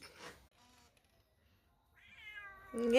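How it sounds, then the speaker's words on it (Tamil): A kitten meows in a quiet room. A faint, short mew comes first, then a clear rising meow and a sharper, louder cry at the end. "இது வந்து வேறு பூனைக்குட்டி"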